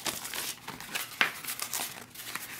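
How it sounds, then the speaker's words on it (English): An MRE pouch of creamy chicken tetrazzini from A-Pack is torn open at the top, giving soft crinkling and a brief ripping tear of the packaging, close and fairly quiet with no voice. "Tear open the top."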